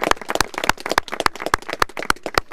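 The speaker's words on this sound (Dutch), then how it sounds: "En voor de rest een applaus natuurlijk." People clap at an award ceremony for a local green initiative, with a cluster of several sharp, quick claps in an uneven rhythm, close and moderately loud, and no talk over them.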